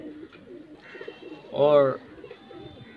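Desi high-flyer pigeons in a loft give one clear, throaty coo amid soft rustling and faint background calls, with a voice briefly heard.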